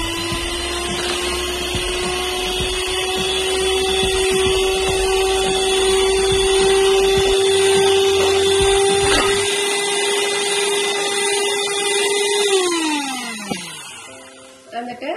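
An electric hand mixer beats three large eggs for a red velvet cake, producing a loud, steady motor whir with a high tonal whine that winds down in pitch as it stops near the end.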